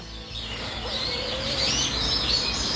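A small bird chirps with quick, high repeated calls while being held with its wing stretched out for treatment, close and clear against a low background rumble.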